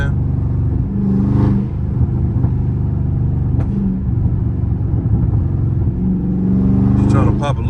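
Catless Dodge Charger Scat Pack exhaust rumbling loud and close, with deep engine drone and a few rev swells, heard under someone talking.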